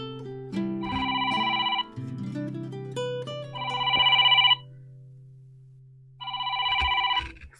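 A phone rings with three bursts of a bright electronic ringtone, separated by gaps, playing over a low steady tone, close and clear with no talking.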